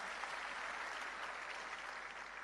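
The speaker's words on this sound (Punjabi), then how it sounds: "ਇੱਕ ਵਾਰ ਜ਼ੋਰਦਾਰ ਤਾੜੀਆਂ ਮਾਰੋ" Crowd applause at a political rally speech in Punjab, a steady wash of clapping from a large audience, sustained and even throughout and heard from a distance without any voices on top.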